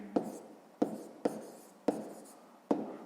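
Pen strokes on paper during a sixth-grade math lesson: five distinct, evenly spaced taps and scratches, close and quiet, each trailing off briefly, with no talk.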